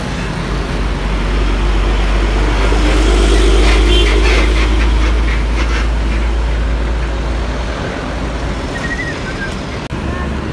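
Advastar The Sultan coach pulling out of a Pertamina fuel station onto the road, a deep rumbling engine swelling and fading over several seconds amid surrounding traffic noise, with someone talking over it.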